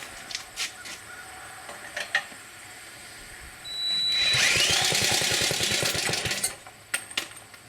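A Briggs 6S engine on a power trowel, run with the choke on, sputters into a rough, pulsing run for about three seconds and then dies, with scattered mechanical knocks before and after.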